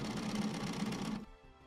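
A sewing machine runs close by in one quick rattling burst, stitching down the edges of a Kawandi quilt for textile art, then stops abruptly and leaves a quiet room.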